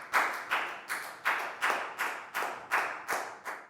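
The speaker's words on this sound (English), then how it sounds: "And a big round of applause for everybody doing a great job." Year 4 primary pupils in a classroom clap in unison for everyone, a regular beat of roughly nine crisp, close claps with no voices.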